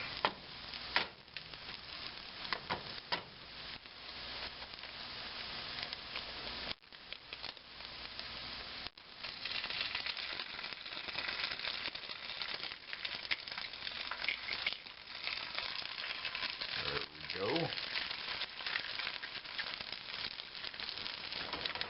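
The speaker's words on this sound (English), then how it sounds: "this is all hot here, so we'll break an egg into it" Egg cracked into a hot pan of hash and scrambled through it, giving a steady, loud close sizzle and frying crackle throughout with occasional scraping and stirring, no talking.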